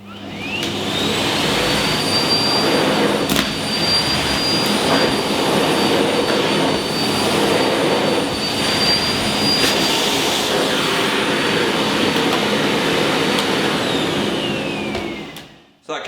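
Miele PowerLine Blizzard CX1 Excellence cylinder vacuum cleaner running continuously on a rug, a loud steady whine with a high tonal note that drops away as the motor winds down at the end.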